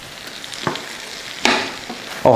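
Beaten egg with bitter gourd (ampalaya) cooks in a pan, a soft continuous sizzle broken by a few sharp scraping or stirring knocks, close by and with no talk.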